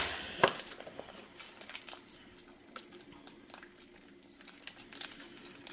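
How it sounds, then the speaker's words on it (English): A plastic sour cream packet torn open by hand in a home kitchen, heard as a short tearing rip followed by faint, close crinkling and rustling. "So open the sour cream."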